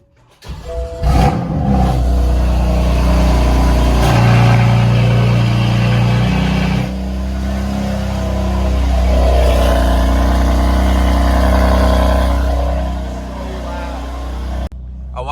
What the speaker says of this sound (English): Let's hear what this mid pipes sound like.